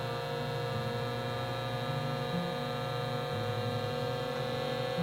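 Steady electric hum of a vacuum sealer drawing air from a mason jar, a constant droning tone with faint fluctuations, close and alone with no talking.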